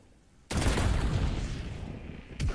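Heavy gunfire in Black Ops 7 Zombies starts abruptly and holds as a dense, loud burst of rapid shots, then breaks off briefly before another sharp volley near the end.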